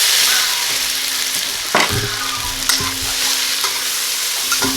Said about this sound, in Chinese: 肉先给它炒一下。